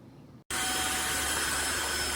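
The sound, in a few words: Tineco iFLOOR 3 Breeze cordless wet dry vacuum running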